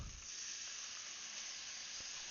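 Soy sauce hitting hot fried rice in a pan, a steady, even sizzle and steamy hiss that holds faint and unbroken throughout, with no talking.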